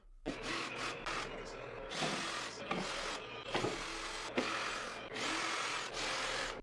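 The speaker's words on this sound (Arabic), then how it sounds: "بعد كده بدات افك المسامير بتاعه الرف" A power screwdriver backs screws out of a wooden wall shelf in bursts of whirring, several short runs separated by brief pauses, close and fairly loud.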